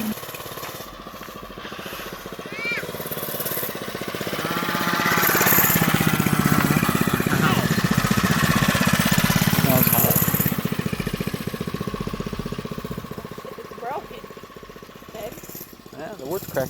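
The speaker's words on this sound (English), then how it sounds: "It's not real fast with the 3 horsepower motor." A 1970s Golden Pinto mini bike with a 3 horsepower engine runs nearby, its small motor buzzing and swelling louder as it passes before settling back, while people talk over it.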